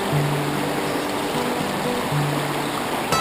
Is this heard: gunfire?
no